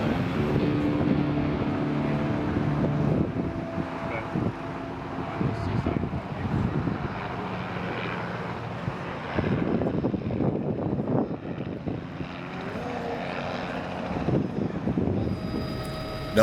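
Helicopter in flight in the Pacific Northwest, a steady, loud rotor and engine drone that fills the whole stretch with shifting tonal hum and no talk over it.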